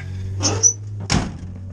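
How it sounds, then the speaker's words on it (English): An old truck door bangs shut twice in quick succession, first with a lighter latch click and then with a heavier solid thunk, close and clear over a low engine hum. "Doors closed perfect."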